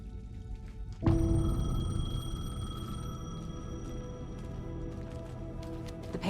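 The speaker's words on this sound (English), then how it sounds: "The payphone was ringing." A payphone in the game Alan Wake 2 rings with a sudden, sustained electronic tone that starts abruptly and holds steadily over a dark ambient background, fairly loud and close.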